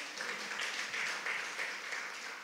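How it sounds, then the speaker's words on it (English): Applause at a church service, a steady wash of hand clapping from a congregation that stays fairly even and moderately loud throughout, with no voices over it. "Let's give Rachel a big hand clap."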